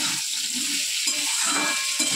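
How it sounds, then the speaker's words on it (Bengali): Potatoes for aloo chachchari sizzle in a pan, alone and near, while a spoon stirs them in regular scraping pulses about twice a second. "আলু চচ্চড়িটা বসিয়ে দিলাম।"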